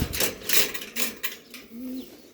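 Pigeons inside a loft give soft, repeated throaty coos, several overlapping close calls with brief pauses between, alongside faint rustling.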